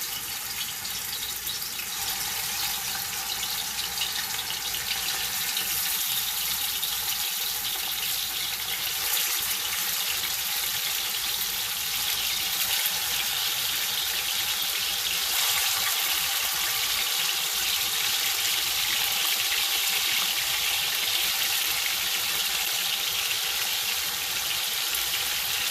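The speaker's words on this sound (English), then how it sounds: "hear that sizzle." Oxtail sizzling in hot oil in a pot for Jamaican-style oxtail, a dense, continuous crackling hiss that stays loud and steady throughout with no voices.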